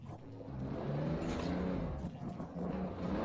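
Toyota Supra tuned to 1600 HP in the racing game Forza Horizon 4, its engine revving up and down in rising and falling sweeps over a continuous loud drone.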